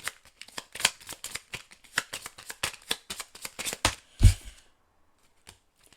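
Tarot cards shuffled and drawn by hand, a rapid run of crisp riffling flicks and slaps followed by a louder thump as cards are set down, then near silence with one faint tap at the end.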